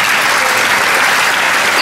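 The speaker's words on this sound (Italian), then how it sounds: "facciamo un applauso" Loud, dense audience applause at a women's music concert, continuous close clapping filling the whole moment with no break.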